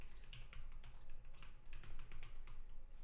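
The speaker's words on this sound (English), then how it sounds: "Please don't sniff my super secret SSH key by the sound of my keyboard." Quiet, steady typing on a computer keyboard during a live programming session, with soft, irregular key clicks in quick bursts and no talking.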